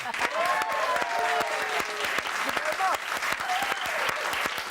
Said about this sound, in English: let's continue the applause and welcome Darren Brown